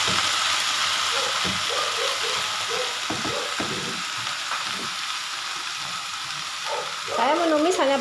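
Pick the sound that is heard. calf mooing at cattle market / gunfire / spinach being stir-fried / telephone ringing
spinach being stir-fried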